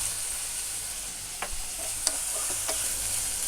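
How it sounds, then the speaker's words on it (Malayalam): Mixed vegetables stirred in a hot pan over a high flame, a steady sizzle under a few sharp scrapes and clicks of the spoon against the pan. "ഇങ്ങനെ ഹൈ ഫ്ലെയിമിൽ ഇട്ട് ഇളക്കി കൊടുക്കുക."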